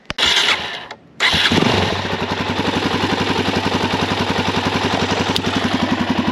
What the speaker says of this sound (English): so we just started the bike up